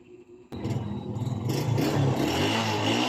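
A Suzuki Smash 115 motorcycle with a draining battery is started; after a short quiet lead-in a sudden catch brings the engine to life, rising into a steady, close idling putter.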